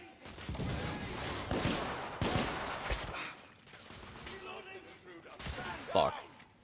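Gunfire in a combat sequence from the game The Order: 1886, with bursts of rapid shots and heavy impacts coming in several waves, mixed with voices talking over the fighting.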